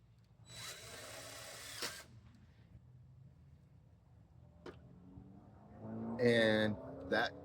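A power drill drives fasteners for a cemetery fence in two short whirring bursts, the first fairly quiet and the second louder and rising, with a voice faintly present.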